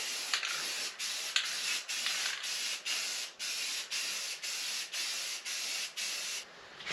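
An aluminum radiator is spray-painted black with an aerosol can, in short repeated hissing bursts. Brief pauses fall between the bursts in an even rhythm, close up and fairly quiet, with no voices.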